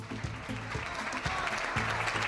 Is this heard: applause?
yes